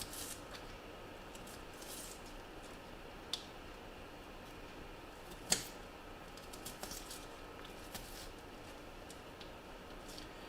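A knife slices through a peeled onion on a cutting board while an Indian chana masala is being prepared, giving faint, scattered crisp clicks and taps, with one sharper cut standing out.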